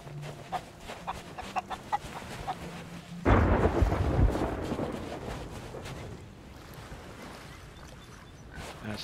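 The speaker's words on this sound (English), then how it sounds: "That storm's getting closer." Thunder from an approaching storm in the pirate video game Sea of Thieves rolls in as one loud rumble that swells and slowly fades, after a stretch of clucking chickens and light ambient noise.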